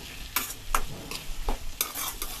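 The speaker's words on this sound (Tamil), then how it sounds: "இது ஒரு 5 நிமிஷம் நல்லா வதக்கணும்" Tomatoes for Tamil tomato thokku sautéing in a pan, a steady sizzle broken by several sharp scraping stirs spaced about half a second apart, close and fairly loud with no talking.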